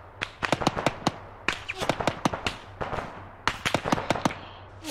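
Rapid bursts of gunfire from ARMA 3 combat, a Libyan Black Gold mission, crack in several clustered volleys with short gaps between them, loud and close against a low steady hum.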